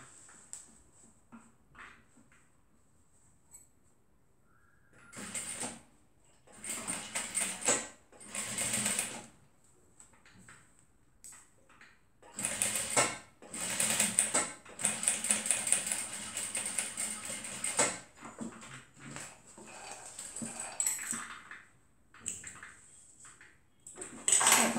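A sewing machine stitches a lined zipper purse in several runs of rapid mechanical whirring, separated by quiet pauses and light handling clicks, close and without voices.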